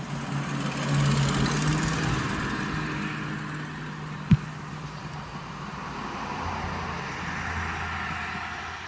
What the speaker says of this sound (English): hate talking when traffic's going by